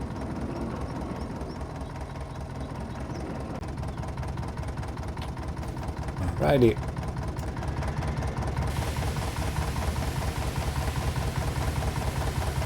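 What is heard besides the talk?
tractor engine idling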